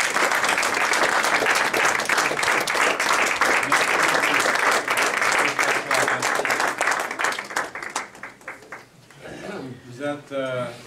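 A standing ovation at a Christmas gathering: dense, loud crowd applause builds and holds, then thins into scattered claps as a speaker's voice returns at the end.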